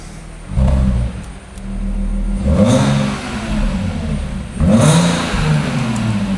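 A Porsche 911 Turbo engine revs hard twice, each time climbing in a loud, close rumbling rise before easing back to a throaty idle.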